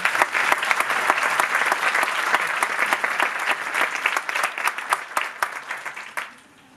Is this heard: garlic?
no